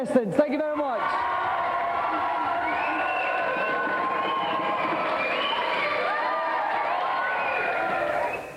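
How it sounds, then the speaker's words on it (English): Studio audience at a television game show applauding and cheering its contestants: a dense, sustained wash of clapping with excited voices rising over it, fading at the very end. "Another round of applause then for our three contestants."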